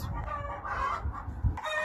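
Hens cluck softly and steadily at close range, with low scratching and rustling noises underneath and a brief louder thump near the end.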